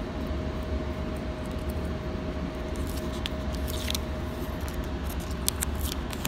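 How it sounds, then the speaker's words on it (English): Scissors trim a single-sided laminating sheet in a series of light, crisp snips that are mostly clustered toward the end, over a constant broadband background rumble. "After trimming up the single-sided laminating sheet, I'm going to take the peel off."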